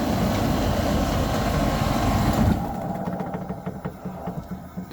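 The fan of a Rinnai Polocool C47C air conditioner, under repair for its motor, whirs steadily and loudly, then drops to a softer, rougher hum halfway through. It runs close, with no talk.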